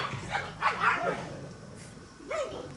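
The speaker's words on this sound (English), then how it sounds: "dog's fighting" Several dogs squabble and bark in short bursts, with yelps and whines rising and falling at moderate distance, no voices present.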